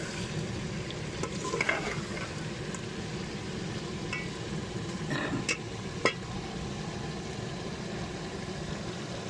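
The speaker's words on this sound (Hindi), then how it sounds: "अभी अच्छी तरह मिक्स करेंगे इसको।" Desi chicken being stirred and mixed in a frying pot, village-style Punjabi cooking: a steady low rumbling sizzle with a few scraping stirs and occasional sharp clinks of a utensil against the pot, no voices.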